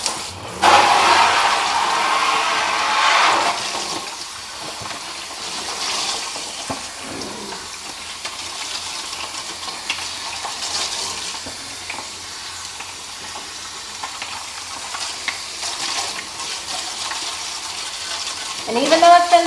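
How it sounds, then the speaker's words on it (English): Tap water runs and splashes steadily while a styrofoam incubator is rinsed out, a continuous rushing flow with shifting splashy texture and a louder burst near the end. "I am going to rinse all this out"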